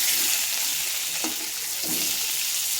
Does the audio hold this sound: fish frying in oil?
yes